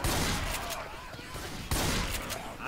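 Shotgun fire in a zombie shooter game, a couple of sharp broadband blasts at roughly one and a half second spacing, loud and close amid game noise with a voice talking underneath.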